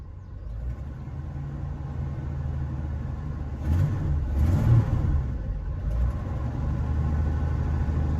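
A steady low engine rumble heard from inside the cab of an old bullnose Ford F-150 pickup with a dual-muffler exhaust, swelling briefly as it revs, then settling back into a constant drone.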